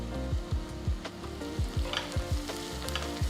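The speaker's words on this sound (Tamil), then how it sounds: "ஸோ பாருங்கள் வெங்காயம் ஓரளவுக்கு வதங்கியிருக்கு" Onions sautéing in oil in a pan, with a pinch of asafoetida added, for a Tamil New Year lunch dish: a steady close sizzle broken by regular scraping stirs about every half second, with no talk.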